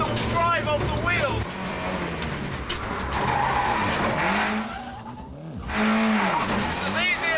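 A Ford Puma rally car runs hard through a handbrake turn, engine revving and tyres squealing in rising and falling sweeps. Someone talks over it, and the engine briefly drops away before surging back.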